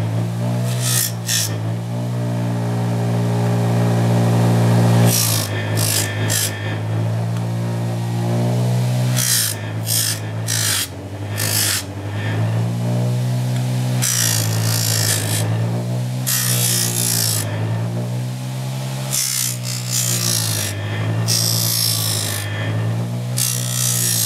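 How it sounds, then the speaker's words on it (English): A buffing wheel with a rough wheel runs steadily while smoothing Kydex edges, a loud continuous motor hum with harmonic drone overlaid by intermittent higher rubbing hiss as the plastic is pressed against it. "I'm going to come over here to the buffing wheel, I'm going to turn it on, and I'm going to use the rough wheel first"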